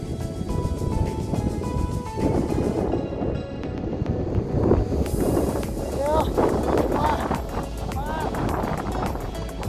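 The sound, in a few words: wind on mountain trail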